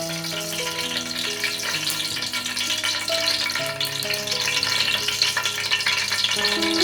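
Oil and Bengali ghee sizzle in a heated pot with a soft, continuous hissing crackle, partly overlaid by steady background music with sustained tones.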